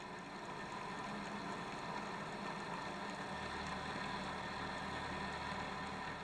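Boat engine running steadily at about 2,500 RPM during an anchor holding test, a constant low drone with broadband hiss and water noise throughout, no speech.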